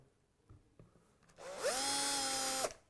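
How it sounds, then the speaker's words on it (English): A small power drill boring a shallow hole into a wooden guitar body from a guitar kit spins up with a sharp whine about halfway through and holds a steady high pitch until it stops, after a few faint knocks. "we take our small drill"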